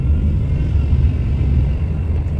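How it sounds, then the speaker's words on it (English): A car engine rumbles low and steady at night during a delivery pickup, a continuous close drone with slight fluctuations and no voices. "Yes, ma'am, I hear your car."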